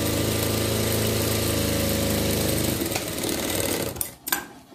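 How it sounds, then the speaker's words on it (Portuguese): A sewing machine stitching the side seam of a skirt for a Shih Tzu dress, a fast steady mechanical whir that runs loud and close, then slows and stops near the end with a couple of clunks. "Eu só dobro minha saia, costuro lateral"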